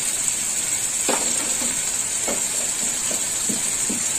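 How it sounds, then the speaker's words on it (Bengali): Turmeric and green chili paste fry in hot oil for a Bengali vegetable chorchori, giving a steady close sizzling hiss broken by a few light stirring knocks and scrapes. "হলুদটা একটু ভাজা হবে তেলের সাথে"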